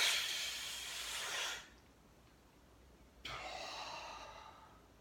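A person imitates a smoker's deep breathing: a long airy inhale or exhale lasting about a second and a half, a pause, then another breathy rush, close and hissy with no talk.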